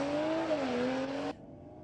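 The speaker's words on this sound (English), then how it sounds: "There's nothing like very loud, big-tired cars" A loud drag race car with big tires screams past at full throttle on the strip, its engine note bending down before cutting off sharply into quieter background.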